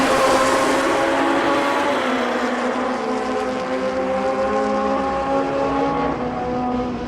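A 1978 Kawasaki drag bike at the Mancup World Finals roars steadily as it runs down the strip, a loud sustained engine note with shifting harmonics over crowd and track ambience.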